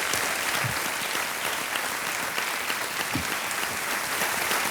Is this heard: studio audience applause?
yes